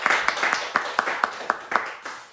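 Church congregation clapping at a weekday special service, a steady rhythmic run of sharp claps about four per second, fairly quiet and close, with faint voices underneath.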